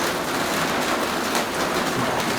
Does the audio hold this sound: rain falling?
yes